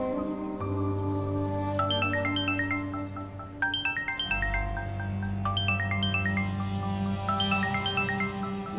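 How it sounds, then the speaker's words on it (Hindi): A mobile phone plays a repeating melodic ringtone, its bright chiming phrases looping steadily over a low, sustained background tone. "तुम्हारा फोन बज रहा है।"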